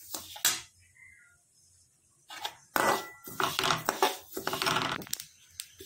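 Sesame seeds roasting on a low gas flame in a kadai, with bursts of crackling, popping and scraping that come and go between quiet gaps.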